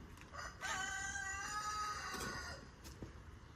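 A backyard hen squawks loudly in a harsh, sustained call lasting about two seconds, with fainter clucks before and after, alone and fairly close.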